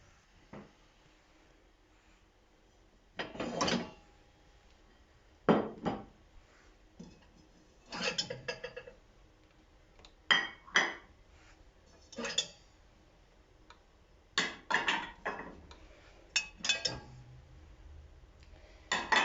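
Dishes, glasses and cutlery clink and clatter in irregular bursts as items are lifted out and set down, close by, with quiet gaps between.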